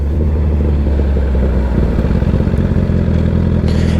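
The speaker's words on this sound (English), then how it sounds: "So now I'm going to grab the clutch and click. Now we're in the gear." A motorcycle engine idles loudly and steadily up close while the rider pulls the clutch and clicks into gear, with a brief mechanical clack near the end; no talking.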